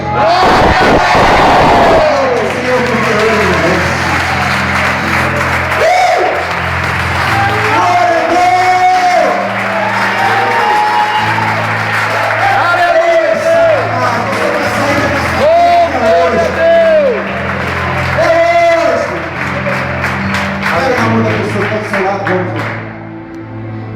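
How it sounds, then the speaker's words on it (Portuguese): A church congregation during a sermon at a Church of the Nazarene erupts in loud, sustained crowd noise, shouting and cheering praise with applause, dense and continuous over a preacher's amplified voice. "vai dar um glória a Deus mais forte e vai aplaudir ao Senhor nessa noite"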